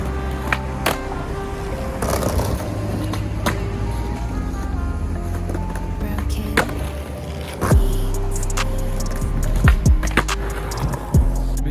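A skateboard rolls over rough pavement at a small step at an old skate spot, with a continuous wheel rumble and several sharp wooden clacks and thumps of the board popping and landing.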